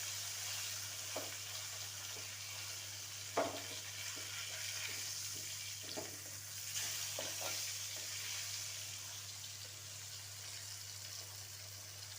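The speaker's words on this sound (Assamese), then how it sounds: "এতিয়া তেলত মাছটো ভাজি ল'ম।" Pieces of kosh fish frying in oil colored with turmeric, a steady soft sizzle running throughout with a few brief clinks and stirring sounds, close by and without voices.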